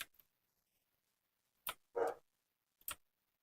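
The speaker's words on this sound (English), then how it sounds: "my dog's barking because it said Ohio" A dog barks in short, sharp bursts, three separate barks spaced over a few seconds, moderately loud against an otherwise quiet room with no talking.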